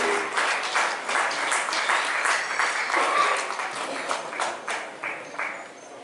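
Audience applause at an award ceremony of a human rights peace conference in Jaffna, a sustained crowd clapping with dense, irregular claps that swell and ease slightly, loud and continuous.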